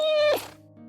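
A cat gives a single short, drawn-out meow after eating, close by and fairly soft, followed by a faint tonal hum.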